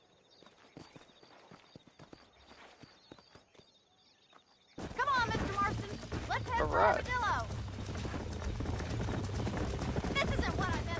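Horse hooves clip-clop steadily on a dirt trail in a Wild West video game, a near rhythmic trot under a musical score, with a voice speaking over the ride.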